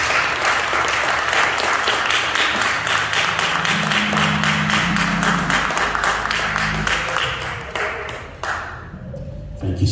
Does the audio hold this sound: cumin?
no